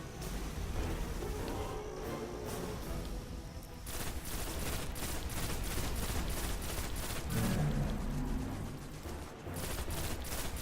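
Rapid bursts of fusion rifle fire in Destiny, dense volleys of sharp crackling shots repeating across the clip, loud and close with no talking.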